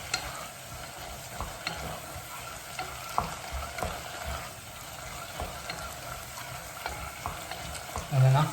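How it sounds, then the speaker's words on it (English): Mushroom, asparagus and courgette risotto sizzles in a pan while being stirred steadily, with gentle scrapes and clicks of the spoon repeating close by over a constant frying hiss. "Again, constantly stirring it before we get ready to add a bit more stock."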